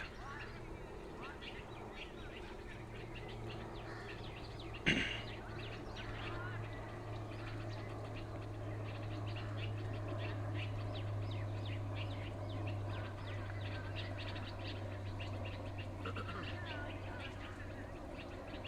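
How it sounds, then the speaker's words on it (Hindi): Birds chirp and twitter outdoors in a faint, continuous chorus, with scattered calls over a steady low hum and one brief louder knock. "ये चिड़ियों की चहचहाट"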